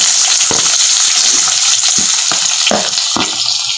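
Chopped big onions sautéing in hot oil after mustard seeds have popped, a loud, steady hiss close by, punctuated by a few scraping stirs of a utensil, with no speech.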